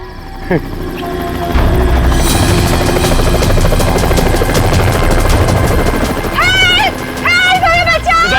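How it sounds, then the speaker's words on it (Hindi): A rescue team helicopter passes overhead on an island, a loud, steady, close rotor-and-engine thrum that fills the whole stretch while voices talk over it. "सर लगता है ये रेस्क्यू टीम का चॉपर है जो हमें बचाने के लिए आया है"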